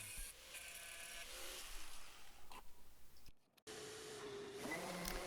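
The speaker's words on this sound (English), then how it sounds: "Give it a quick sand down, get it nice and smooth" A wooden table saw sled being sanded smooth, a steady close rasping scrub of abrasive on wood that pauses briefly in the middle, then resumes, with no talking.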